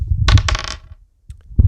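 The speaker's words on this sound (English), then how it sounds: "Let's roll the dice." Dice rolled across a hard surface, a burst of bright clattering knocks in the first half, then a pause and a faint final tap, close and loud, with no voices.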